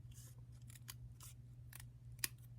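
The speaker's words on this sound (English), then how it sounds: "I'm going to take my snips, and I'm going to cut this" Handheld snips slice a strip of craft material lengthwise for a Valentine project, giving a series of sharp, crisp cuts at an uneven pace, each close and distinct above a steady low hum, with no talking.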